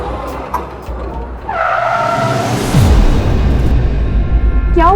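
A car brakes hard to a sudden stop, its tires squealing and skidding loudly over a rising engine roar for a few seconds, close by.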